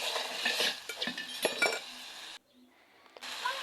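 Cowpea leaves stirred with tomato paste in a pot, close clinking and scraping of a utensil against the pot in quick irregular strokes, broken by a short near-silent gap before the stirring resumes.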